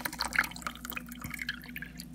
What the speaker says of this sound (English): now we've got the water that we're going to pour off